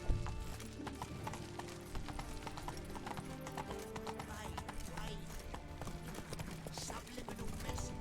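Horse hooves clip-clop at a gallop in The Witcher 3, a quick, even run of hoofbeats with wooden knocks and a brief whinny, and someone speaks now and then over them.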